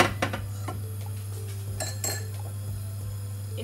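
Metal clanks and clinks as a frying pan is set down on a gas stove, a few sharp knocks early and midway over a steady low hum.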